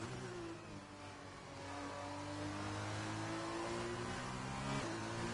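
A Formula 2 race car engine drones in the F1 2020 video game at the Netherlands circuit, a steady high-pitched whine that climbs as revs rise and briefly dips at a gear shift, continuous and loud.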